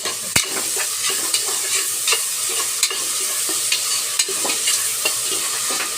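Chopped onions and curry leaves fry in a pan with salt, giving a steady sizzle broken by regular scraping clicks from stirring, close and fairly loud, with no talk.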